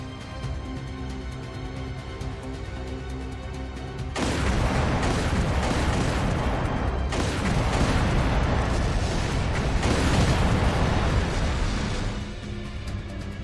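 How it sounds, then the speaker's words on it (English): Explosions and gunfire in the city in the video game Trails Through Daybreak II, a loud, dense roar of booms and blasts that surges suddenly and holds continuously, with a quieter backdrop before it. "Confirming source of gunfire."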